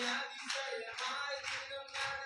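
A church congregation claps hands in four broad, even bursts, fairly close and moderately loud, with no talking.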